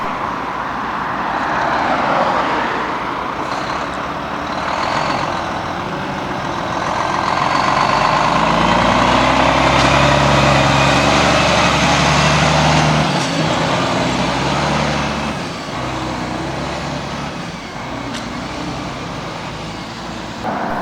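A 2009 4x2 box truck at a Newcastle truck pull-off idles and then rolls forward, its loud diesel rumble swelling as it moves close by and then easing off again.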